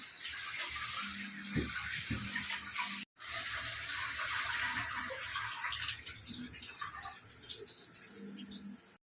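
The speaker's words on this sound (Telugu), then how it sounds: "పుదీనా కొత్తిమీర కలిపి కడిగేస్తున్నాను." Mint and coriander leaves being washed under a running tap, a continuous splashing stream of water with leaves rustling, briefly cut off for a moment and then running again, close and moderately loud.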